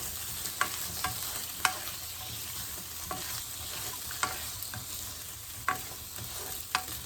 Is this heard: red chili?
yes